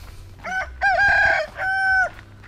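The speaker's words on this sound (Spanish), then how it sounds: "Ese es un gallo." A rooster crows near a country-style resort in a rural Bolivian town, one clear, tuneful call with several rising and sustained phrases, loud and alone against faint background noise.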